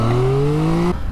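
A stock KTM 890 Duke R motorcycle engine revs hard with a steady rising tone, close and loud, then cuts off abruptly near the end.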